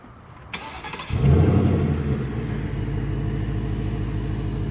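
A 2024 Ford Mustang GT Premium engine cranks briefly and fires up loudly after a faint click, then settles into a steady, throbbing idle close by.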